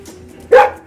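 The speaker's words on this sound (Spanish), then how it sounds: "ella es Julie, uno de los 5 perros de rescate de Cruz Roja Puebla" A Red Cross Puebla rescue dog gives a single sharp bark, close and loud, after a brief quiet moment.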